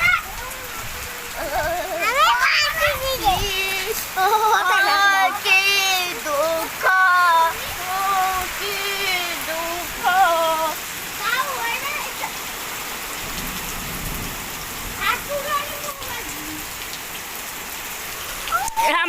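Heavy rain pours down in a steady, dense hiss throughout, with voices talking and singing over it at close range.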